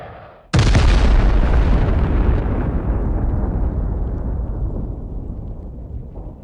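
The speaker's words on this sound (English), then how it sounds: "Then, the jets arrived. 2 air-dropped bombs," A single massive blast from an air-dropped bomb striking buildings in a combat zone erupts suddenly after a brief quiet moment, then rolls into a long, deep rumbling decay that slowly fades over several seconds.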